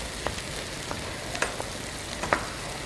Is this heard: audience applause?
no